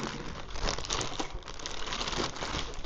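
Plastic bag crinkling and rustling up close, a steady busy crackle that continues for a few seconds without pause.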